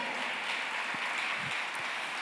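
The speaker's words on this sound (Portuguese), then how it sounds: "Quem pode aplaudir ao Senhor?" A church congregation applauds in a continuous, fairly loud wash of clapping with a few low thumps scattered through it.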